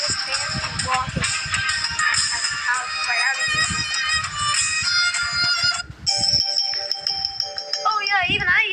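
Samsung Galaxy A14 ringtone plays a bright melodic tune with a short break partway through, while a person talks over much of it.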